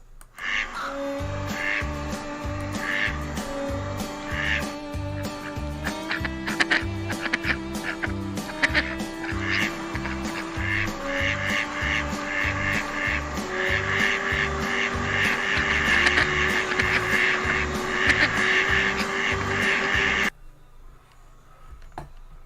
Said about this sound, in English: That is a very happy duck.